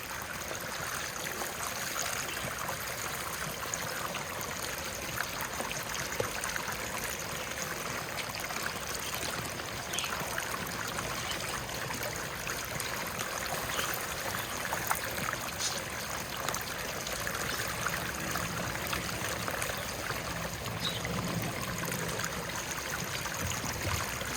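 Steady rushing of water running through a sluice box with a grizzly bar mat, a continuous close wash with faint splashes and no talking.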